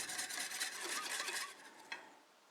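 A spoon stirs a beef marinade for a ribeye rice bowl in a bowl, giving close, soft scraping and swishing that fades, followed by one brief clink near the end.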